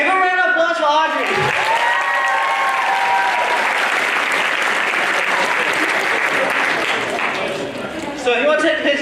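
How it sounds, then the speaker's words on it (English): Audience applause at a Cambodia Town film festival event, a loud full burst of crowd clapping and cheers that fills most of the moment, framed by someone speaking into a microphone before and after it. "Give a round of applause for Audrey."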